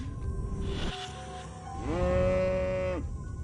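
A cow moos twice in the video game Destroy All Humans, a short low call followed by a longer, louder drawn-out moo with clear harmonic tones.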